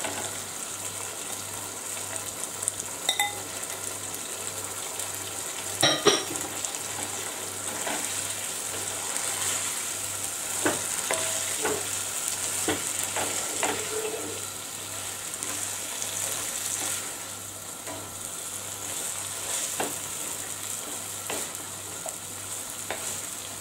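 Long beans and cabbage fry in a pan for a Malaysian vegetable curry, giving a steady, close sizzle throughout with occasional stirring clatters and scrapes.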